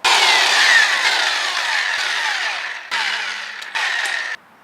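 Pneumatic or power tool spinning wheel lug nuts off an Audi/VW during rear strut replacement, a loud continuous whir that drops, then returns in two shorter bursts before cutting off.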